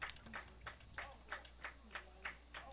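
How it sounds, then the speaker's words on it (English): A baseball crowd at a playoff game in Charlottesville claps in a steady rhythmic beat, roughly three claps per second, moderately distant and building anticipation, with faint background murmur. "The crowd starts to get into it."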